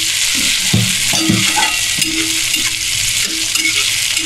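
Chopped tomato, onion and chili fry in a pan for an egg tadka, producing a loud continuous sizzle with occasional stirring scrapes and clicks close by.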